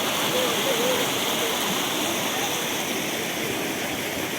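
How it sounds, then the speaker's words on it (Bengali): Floodwater rushes hard through the entrance gate of the Maa Kankali temple at Kankalitala, a dense, steady roar of churning water like a waterfall, with faint voices beneath it. "মা কঙ্কালীর মন্দিরে ঢোকার যে গেট, সেই গেটে ঢুকতে গেলে জলের প্রচণ্ড স্রোত।"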